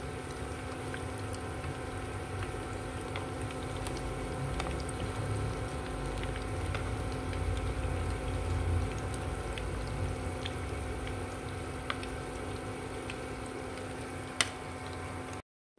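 Bananas deep frying in a pan of hot oil give a steady, low bubbling sizzle with faint crackles and pops throughout, close and moderately quiet, with no talking.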